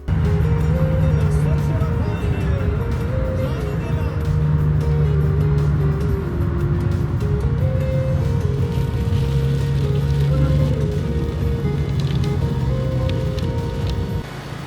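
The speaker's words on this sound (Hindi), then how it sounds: "ट्रैफिक जाम लग गया यार" Traffic in a jam on a newly opened road through Tajikistan, heard from inside a car with the window open: a steady, loud engine drone and road rumble with rising and falling tones throughout, nearby and continuous.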